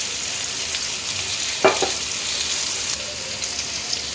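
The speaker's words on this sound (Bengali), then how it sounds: "এবার সয়াবিনটা ভাজছি।" Soybeans fry in ghee and white oil, making a loud, even sizzle close by, with one brief utensil clatter partway through.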